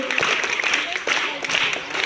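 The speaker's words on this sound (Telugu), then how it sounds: "వీళ్ళందరూ క్లాప్స్ ఇద్దాం" Students applauding skit performers at a school event, a steady close wash of clapping from a group that keeps going throughout, with voices faintly underneath.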